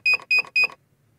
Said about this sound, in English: I added the beeping effect of the elevator going up